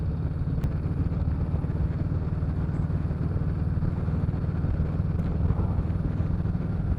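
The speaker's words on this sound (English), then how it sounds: "So I'm riding my 2021 Sport Glide" A heavily modified 2021 Harley-Davidson Sport Glide motorcycle rumbles steadily under riding wind noise, a constant low engine drone heard close from the rider's position with no talk.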